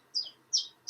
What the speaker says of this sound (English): And they knew it as the chiffchaff,